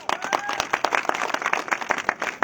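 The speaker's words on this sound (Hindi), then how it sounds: "ये ताली लाइट के लिए थी कि मेरे लिए थी?" A crowd at an election rally in Rishikesh claps in scattered, uneven bursts, individual hand claps standing out close and sharp over a thinner background of applause.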